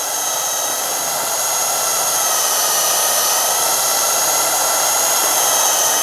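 A drill-driven hone deglazes the rusty cylinder of a Fowler PA1 engine, giving a steady, loud, close whir with a hissy scraping edge that holds without a break.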